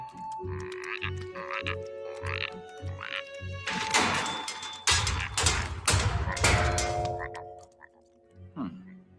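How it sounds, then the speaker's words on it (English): Cartoon frogs croaking in an animated fantasy series, repeated rhythmic croaks at a steady pulse, then a loud dense burst of overlapping croaks and noise before a quieter tail. "I'm not sure if I'd be more alarmed by the frogs coming out from under the door like it's the plague"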